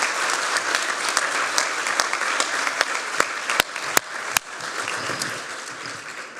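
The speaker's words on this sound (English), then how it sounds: "So I'd love to invite everyone for a round of applause for our tribal partners" Crowd applause at an awards ceremony, a sustained wash of many hands clapping with a few sharp, close individual claps standing out in a steady rhythm, no talk.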